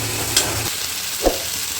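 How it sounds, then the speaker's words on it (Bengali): A spice paste of soaked ground spices sizzles steadily in hot oil in a pan for a hotel-style chicken keema masala, with two brief scrapes of stirring over the close, constant frying. "এবার সুন্দর করে সব মশলা কষিয়ে নেব আমরা।"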